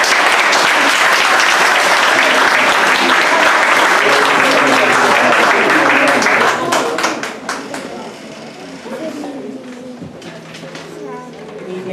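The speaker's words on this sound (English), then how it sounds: "Give her a round of applause." Loud, dense applause from the audience at a Church of the Nazarene building fund-raising concert fills the first seven seconds, then thins and dies away, leaving a quieter room with scattered sounds.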